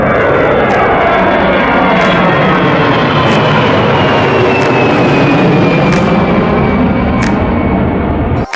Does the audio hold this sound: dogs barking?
no